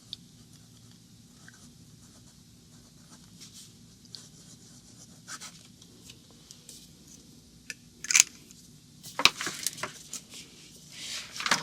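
The fine nib of a Pilot Custom 823 fountain pen, held in the left hand, writes on paper with faint, intermittent scratchy strokes that grow busier and louder toward the end.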